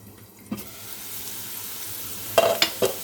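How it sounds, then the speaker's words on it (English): Chopped onion sizzles steadily in a hot pan as it cooks for a mushroom pasta, a constant close frying hiss with a few sharp clinks of a utensil against the pan near the end. "Now let's add some onion. Let it get cooked for some time."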